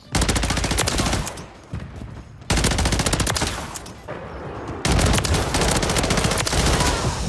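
Sustained automatic fire from a BP50 assault rifle in Modern Warfare 3, loud rapid bursts in three long strings separated by brief pauses, with no talking.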